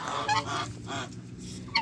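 Geese honk loudly and repeatedly nearby, a noisy cluster of calls in a farmyard setting.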